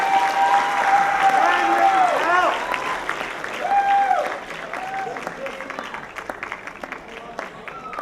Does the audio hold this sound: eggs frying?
no